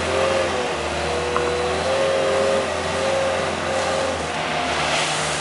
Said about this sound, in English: But the skid steer is very handy for this.